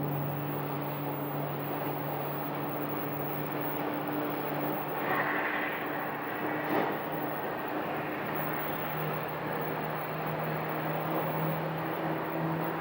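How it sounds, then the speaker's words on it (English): An Airbus A321neo jet engine spools up in the distance at Phoenix Sky Harbor airport, a steady low drone with a rising whine over constant background hum. "The engine start that you're hearing is not the engine of this plane, but it's the engine of the one behind it"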